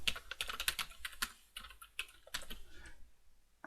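Close, quiet typing on a computer keyboard as an email and password are entered, with rapid irregular keystrokes that trail off near the end.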